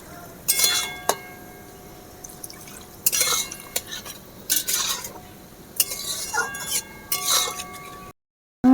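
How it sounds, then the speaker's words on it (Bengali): Taro stolons being stirred with shrimp and spices in a pan, giving a few separate bursts of utensil scraping and clinking against the pan, close and moderately loud, with quiet pauses between. "এক থেকে দু মিনিট এভাবে মশলার সাথে মিশিয়ে নিতে হবে ভালো করে"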